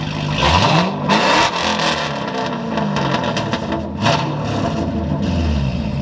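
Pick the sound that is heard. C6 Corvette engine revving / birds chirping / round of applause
C6 Corvette engine revving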